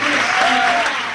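A studio audience applauds and cheers loudly for the actors of a television sitcom, dense continuous clapping with a voice rising briefly over it.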